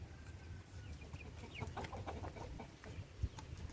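Hens cluck and murmur at a distance over steady farmyard background noise, with scattered short calls overlapping.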